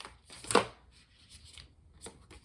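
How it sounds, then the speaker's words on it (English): A deck of tarot cards shuffled up close and quietly: one sharp riffle burst, then soft scattered slides and taps of the cards with a second small flurry near the end. "That was the weirdest shuffle."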